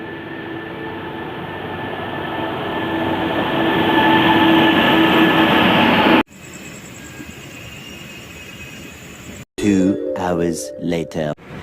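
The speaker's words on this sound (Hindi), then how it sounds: "train number 14603 platform number Ludhiana के 4 पर आ चुकी है" A passenger train pulling into platform 4 at Ludhiana station, a loud rolling rumble of railcars that builds for several seconds, then a quieter platform hum followed by bursts of station noise.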